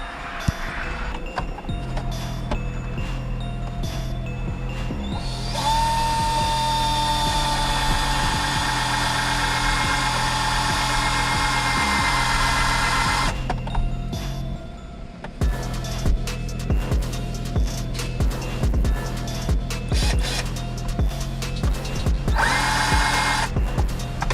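A power drill drives screws to fit a 4th gen Ram cup holder into a 3rd gen Ram 1500 Hemi truck, with repeated close, loud bursts of whirring and ratcheting separated by short pauses.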